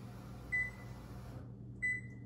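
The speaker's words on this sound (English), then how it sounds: "our first step is we gotta go over here and start our oven" A kitchen oven being switched on gives two short electronic beeps about a second apart over a steady low appliance hum, with the background dropping quieter after the first beep.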